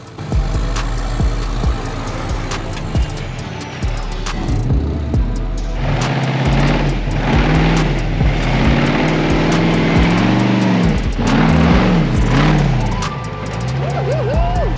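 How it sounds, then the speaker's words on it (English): A rowdy, powerful off-road rig engine revs and surges loudly on a rocky trail at Sand Hollow, Utah, with uneven throttle blips and rising pitches close by. "Man, that thing's got a spicy motor in it, and I love the sound of it when it's getting rowdy."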